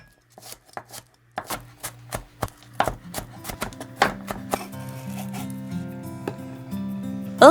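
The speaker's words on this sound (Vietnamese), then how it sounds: "Tỏi này thì mình đập dập và băm nhuyễn." Kitchen knife crushing and mincing garlic on a cutting board, a run of sharp, irregular close taps that quicken into rapid chopping, with light background music underneath.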